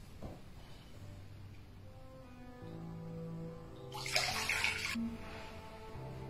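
Water splashes and pours as feet are rinsed in a basin, a quiet trickling that swells into a brief louder gush and then settles again, with no one talking.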